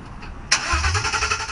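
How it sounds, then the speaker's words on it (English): A handicap-accessible van whose catalytic converter was stolen cranks and fires up abruptly, then settles into a loud, raspy, uneven idle close by. "This is the sound of frustration, the result of a stolen catalytic converter."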